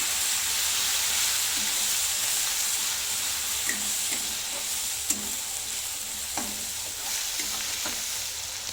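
Coarsely ground coriander and garlic paste sautéing in oil makes a continuous sizzle, broken by scattered clicks and scrapes of a spoon stirring against the pan.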